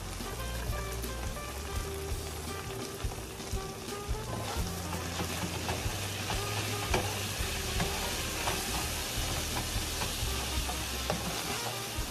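Vegetables for quesadilla filling crackle and sizzle in a pan with frequent spoon scrapes and stirring, a dense, rain-like hiss that stays steady and close throughout with no voices.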